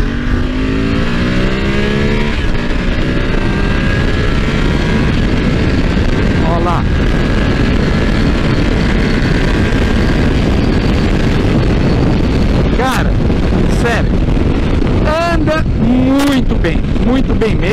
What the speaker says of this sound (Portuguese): Mais uma acelerada, para vocês verem como o motor se comporta.